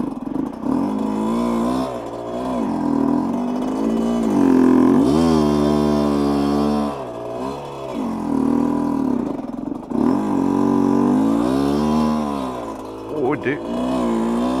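A Honda CRM motorcycle rides through mud, its engine revving up and down in repeated surges and dropping back between them, loud and close throughout the clip.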